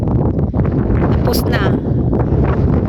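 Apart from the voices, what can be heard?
strong wind blowing outdoors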